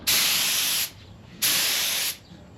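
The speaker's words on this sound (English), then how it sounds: "Now you always want to practice your paint spraying." A spray gun lays base coat on a Ford in a garage, giving two strong, steady hissing bursts of about a second each, separated by a short pause, close and loud with no talking.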